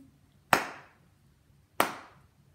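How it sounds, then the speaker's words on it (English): Two sharp, close hand claps ring out about a second apart on the beat in a children's body-percussion canon, each alone with a short decay and quiet between them. "And clap on the beat."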